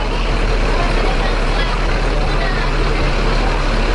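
A TAM bus at the Solo bus terminal gives off a dense, steady low diesel rumble mixed with broad station noise. The rumble carries at constant loudness throughout.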